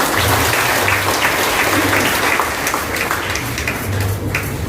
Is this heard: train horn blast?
no